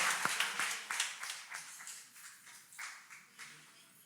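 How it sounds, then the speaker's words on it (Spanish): A church congregation claps, the applause gradually thinning and fading, with individual claps audible toward the end. "Un fuerte aplauso"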